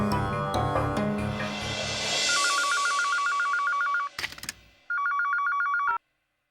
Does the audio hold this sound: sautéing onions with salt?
no